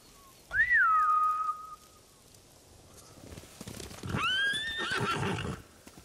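Samurai horses in the Ghost of Tsushima game give two loud whinnies, a close neigh near the start and a second shrill one later, with faint hoof clatter and rustle in between.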